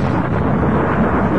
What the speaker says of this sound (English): Thunder roar, thunder clatter.